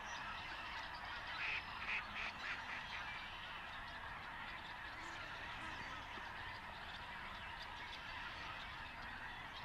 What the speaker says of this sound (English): All the snow geese are there, and just thousands and thousands of ducks.